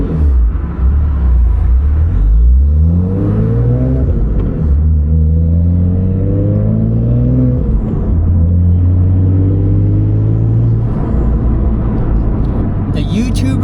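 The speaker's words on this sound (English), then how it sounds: "Downshifting sounds fantastic. It's a lot louder" A BMW M4 with the S55 engine and an Active Autowerke exhaust drives and shifts, its loud deep exhaust note rising and falling through revs and downshifts, recorded from inside the car with a voice talking briefly.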